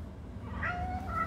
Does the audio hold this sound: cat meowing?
yes